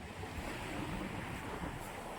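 Sea waves at RK Beach in Vizag make a soft, continuous surf wash with a light wind rumble and no talking.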